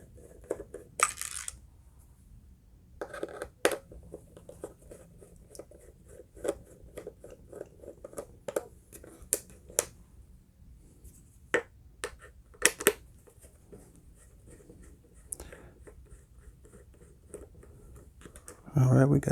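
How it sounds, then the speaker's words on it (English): Screws being loosened from the battery compartment of a Ring alarm siren, heard as scattered close clicks and small metallic ticks with a few louder scrapes, faint handling noise between them. "Gonna go down and unscrew these screws."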